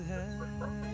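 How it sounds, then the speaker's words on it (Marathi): Penned chickens on a goat and poultry farm cluck in a brief continuous burst, close by, over a steady background hum. "माझ्या फॉर्म मध्ये कोंबड्या बंदिस्त केलेल्या आहेत"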